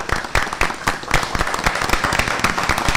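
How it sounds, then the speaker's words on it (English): An audience at a school board meeting applauds the staff and the superintendent with steady, dense clapping close by that runs throughout, with a few louder individual claps standing out. "can we join everybody in applauding the staff and Dr. Rivera?"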